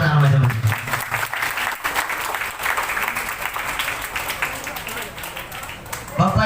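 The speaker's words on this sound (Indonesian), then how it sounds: "Beri tepuk tangan buat anak remaja." An audience applauds the youth group at an evening Islamic religious lecture, a dense round of hand clapping that runs for several seconds, with a voice heard at the start and again near the end.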